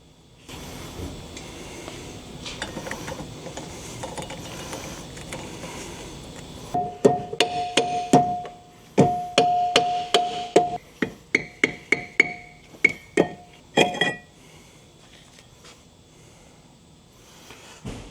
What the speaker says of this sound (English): So we're going to go ahead and pop this rotor off and bring it to the lathe